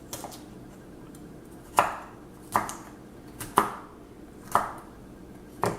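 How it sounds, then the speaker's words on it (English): A knife cuts dumpling vegetables in half on a cutting board, producing five sharp, evenly spaced chops roughly a second apart, close and alone. "So, cut them halfway."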